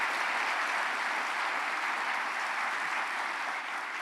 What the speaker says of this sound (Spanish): si les pueden dar un aplauso